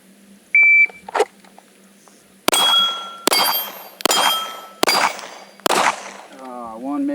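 A pistol fired at AR550 steel targets on an outdoor range: a shrill shot-timer beep, then five sharp shots spaced under a second apart, each ringing with a bright metallic clang from the steel, with a brief voice near the end.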